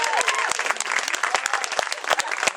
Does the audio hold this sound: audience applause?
yes